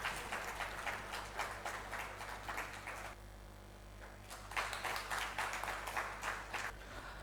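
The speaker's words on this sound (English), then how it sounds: "Let's once again show our appreciation to Dr. Ranga Rodrigo with a round of applause." Audience at a university research week academic session gives a round of applause in two bursts of scattered clapping, quite faint and roomy, with a brief lull between them.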